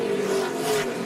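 NASCAR Camping World trucks race flat out on the Eldora dirt oval, a steady loud engine roar with a droning tone sustained throughout, no talk.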